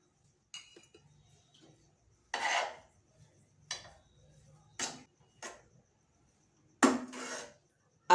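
A spoon scraping and knocking inside a pot as thick thiruvathirai kali is stirred with ghee-roasted cashews and coconut, several separate rasping strokes with quiet gaps between them.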